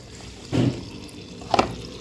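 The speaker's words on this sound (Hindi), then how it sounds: "ये देखिए ये पानी गिर रहा है" Water splashes out in two short bursts during a home service of a front-load washing machine, close by with no voices.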